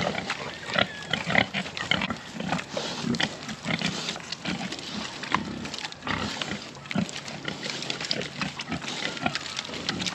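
Pigs rooting and grunting in a wrecked garden pen outdoors, a steady stream of close snorts, grunts and snuffling with occasional woody snaps and crunches, continuous throughout with no talk.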